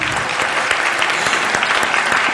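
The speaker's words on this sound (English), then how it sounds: "Let's give everyone a big round of applause." A big round of applause from the crowd at a 2018 MLK Unity Breakfast, loud and dense, with many hands clapping at once throughout the short burst.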